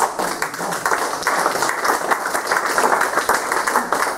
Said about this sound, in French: Attends, on l'applaudit parce qu'il me plaît beaucoup.